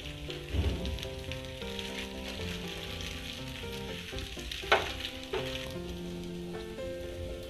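Methi muthiya fry in a sesame and mustard seed tempering, giving a steady, dense sizzle throughout, with an occasional sharp pop or utensil tap.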